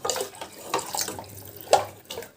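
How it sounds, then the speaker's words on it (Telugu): Water poured from a glass into simmering sambar on the stove, heard as a few uneven splashing gushes and glugs close by, with no talk. "నాకు చిక్కగా ఉంది నేను కొంచెం వాటర్ వేస్తాను"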